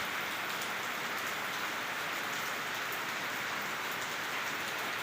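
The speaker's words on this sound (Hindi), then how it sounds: "ज़बरदस्त बारिश, हल्की हल्की धूप।" Heavy, steady rain pouring down, a dense continuous hiss of drops on surfaces with no pauses.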